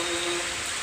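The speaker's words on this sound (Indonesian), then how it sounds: "hujan deras." Heavy rain pours down during a windstorm with a tornado in Batu Ampar, a loud, steady broadband hiss with no breaks over the whole short stretch.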